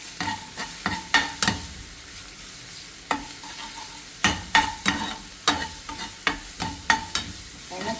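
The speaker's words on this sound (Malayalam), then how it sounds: "പച്ചമണം പോകോളം ഇങ്ങനെ ഇളക്കിക്കൊണ്ടിരിക്കണം" Ginger garlic paste frying and being stirred in a hot pan for meen ada, with a steady sizzle under sharp, irregular spoon scrapes and clacks against the pan, close and fairly loud with no talk.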